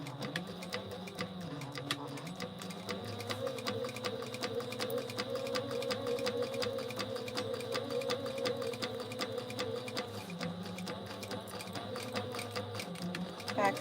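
A sewing machine stitches a Mini Scout garment for about fourteen seconds, running at a fast, even buzzing rate with slight shifts in pitch, close and fairly quiet with no talk.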